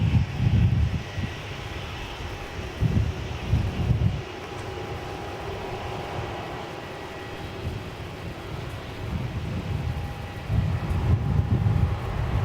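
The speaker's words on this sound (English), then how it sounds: "This is the Qantas aircraft." A Qantas airliner passes at Melbourne Airport as a distant, low jet rumble that swells and fades in waves under steady wind noise, with no voices.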